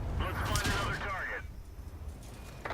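Artillery fires in the World of Tanks video game: a loud, rattling burst of blasts in the first second and a half, fading into quieter, rumbling battle noise, with a voice murmuring faintly underneath.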